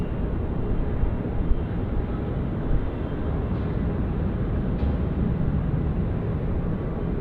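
A Qantas airliner departs Sydney Airport, its jet engines producing a steady, low, broad roar that holds at a constant level throughout with no speech.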